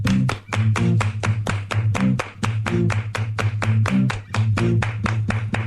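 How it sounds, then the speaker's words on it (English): Sharp, evenly spaced hand claps keep a steady rhythmic beat on a morning radio show, loud and close, riding over a repeating low musical bass line. "Everybody clap your hands."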